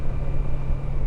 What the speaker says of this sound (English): There goes the Chuo line.